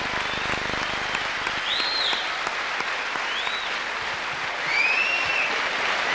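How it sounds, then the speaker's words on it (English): A studio crowd at a game show applauds continuously for the whole stretch, with a few faint whistles rising above the clapping. "Come on, give Shaun a big round of applause"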